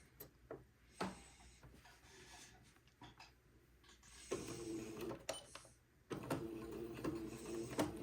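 A sewing machine runs a straight seam attaching entredeaux lace to the shoulder and armhole seam of a baby raglan garment, soft scattered handling at first, then a close, steady mechanical whirr in two sustained bursts.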